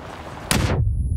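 A single loud gunshot cracks out in a PUBG match, a sharp close blast with a short ringing tail that cuts off abruptly, with no talk over it.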